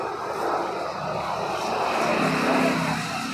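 Diesel engine of a 2013 Mahindra XUV500 W8 idling, a steady low drone with a broadband rumble, moderately distant and even throughout, no talking.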